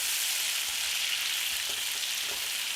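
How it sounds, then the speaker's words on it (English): Potatoes frying and charring in a hot pan alongside steak, giving an even, unbroken sizzle that stays loud and close throughout with no voices. "Potatoes are coming along nicely. Getting a little char on them."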